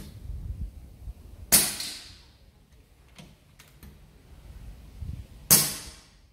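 5.5 mm Kalibrgun Cricket Tactical 2 air rifle pellets hit a target 40 metres away twice, four seconds apart: crisp, loud cracks that ring out briefly, with soft clicks in the quiet between.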